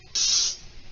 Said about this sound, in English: Spray our pan here, spray it there.